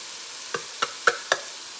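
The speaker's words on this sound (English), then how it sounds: "stir that and cook that for a couple of minutes" Turkey sausage and herbs being stirred in a soup pot, heard as four soft, evenly spaced scraping strokes against a quiet simmering background, with no one talking.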